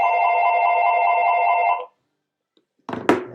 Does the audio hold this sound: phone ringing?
yes